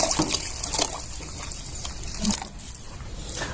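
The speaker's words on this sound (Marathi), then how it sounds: "दूध घालून घ्यायचं आहे" Milk pours into a pot of spiced vegetable curry, a close, splashing liquid stream with gurgles and small bursts that rises and falls over a few seconds.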